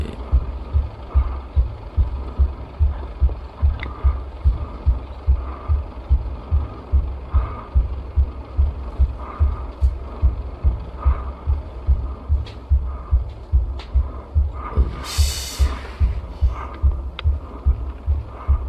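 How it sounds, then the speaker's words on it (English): A heartbeat sound effect pulses with deep, regular low thumps, roughly one per second, steady and prominent throughout over a dark hum, with a faint high swish near the end. "I know his heart beat."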